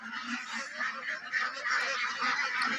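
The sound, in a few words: ducks and chickens let out in the morning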